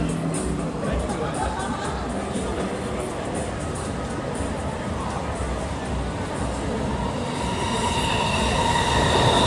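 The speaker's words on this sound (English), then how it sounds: "Shinkansen is moving on the top." A Shinkansen bullet train passes overhead on an elevated line beside a Tokyo standing bar at night. Its steady rail roar and wheel hiss rise slightly toward the end, with a voice talking over it.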